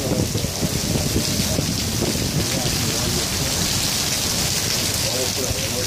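Heavy rain pours steadily and loudly in the city of Cali, Colombia, a dense hiss of drops hammering surfaces with a low rumble underneath, continuous throughout.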